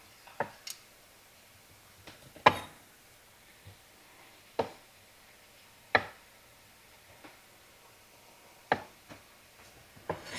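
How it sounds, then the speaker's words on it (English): A knife cuts through thick, cooked Salisbury steak patties, giving sharp isolated knocks against a board every second or two, quiet in between and with no talk. "I'm just going to slice these in about 3 pieces."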